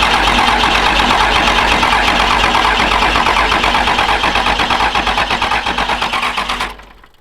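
A Cummins diesel engine with a VP44 injection pump cranks loudly and continuously for about six seconds without catching, the starter's rhythmic churn slowing slightly before cutting off abruptly.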